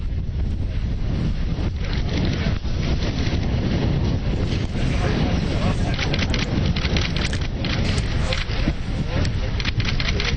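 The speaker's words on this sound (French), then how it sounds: "accueillent Benoît XVI avec un vent qui décoiffe" Strong wind batters the microphone at an outdoor official welcome for Pope Benedict XVI in Berlin, a loud continuous roaring buffet that never lets up, with a commentator's voice faintly underneath.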